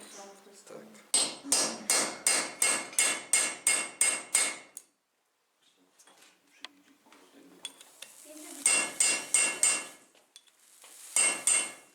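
A blacksmith hammering hot iron to punch holes at a historic forge in an open-air museum, rapid ringing metallic blows in tight bursts of ten or so, with pauses between series and faint background sounds.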